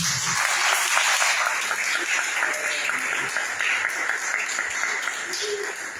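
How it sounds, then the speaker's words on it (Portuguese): A church congregation breaks into sustained applause during a bishop's sermon, a loud, continuous roar of many clapping hands filling the room, with faint voices mixed in beneath. "Dá uma salva de palmas para Deus"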